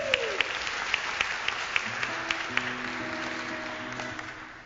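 An audience at a small live music show applauds a performer, a steady patter of clapping with a few sharp, regular hand claps standing out, while sustained tones ring underneath before the applause fades.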